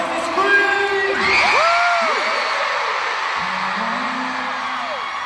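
A concert crowd at a show in San Jose screams and cheers loudly, with high whoops and yells rising and falling in overlapping waves before easing slightly.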